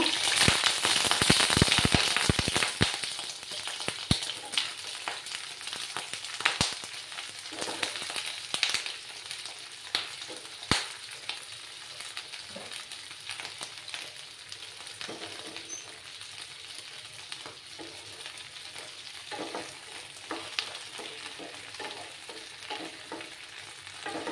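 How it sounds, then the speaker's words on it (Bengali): Flat beans (shim) dropped into hot oil over a lowered flame in a home kitchen, sizzling and frying loudly at first, then settling into a steady crackle with occasional sharp pops and stirring clinks. "দিয়ে শিমটাকে আমি একটু হালকা করে ভেজে নেব।"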